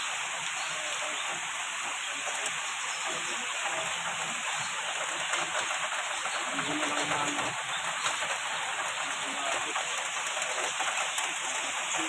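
Heavy rain and floodwater from Typhoon Carina in Manila make a loud, dense, continuous rush that stays even the whole time, with no clear voices above it.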